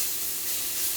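Onions sizzling in a hot pan with mushrooms as they caramelize, a steady close hiss with no pauses and no talking.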